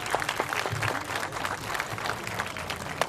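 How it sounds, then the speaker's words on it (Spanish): Outdoor audience applauding at a street clown show in Alameda Bellas Artes, a dense patter of clapping hands from a crowd, fairly close and steady throughout. "¡Dale un fuerte aplauso!"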